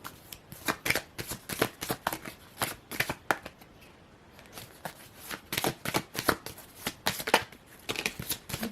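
Tarot cards are shuffled by hand, with quick riffling flicks and soft slaps coming in rapid bursts and a short pause in the middle. The sound is close and moderately quiet, with no talking over it.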